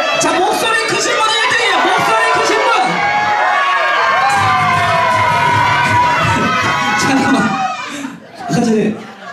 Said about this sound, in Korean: 만세를 큰 목소리로 쳐주셔야 됩니다